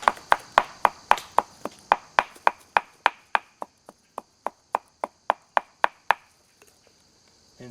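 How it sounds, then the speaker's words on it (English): A knife pommel striking dry wood to split it, a steady series of about twenty sharp, close knocks at an even rhythm, each ringing briefly before the next, then stopping into near silence. "I will take the pommel of my knife right here, and I will begin to process this down"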